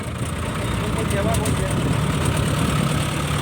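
A six-wheel dump truck's 115 hp engine with a 10-speed gearbox idles loudly up close, giving a steady low rumble with faint intermittent rattles.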